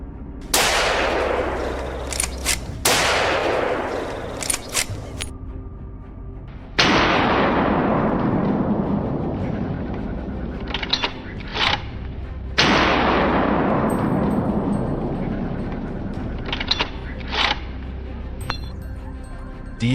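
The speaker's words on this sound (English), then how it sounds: "raised his rifle and fired decisively" Hunting rifle shots fired at a wild boar, several loud reports at irregular intervals with long echoing tails, interspersed with lighter metallic clinks and clatter, no speech.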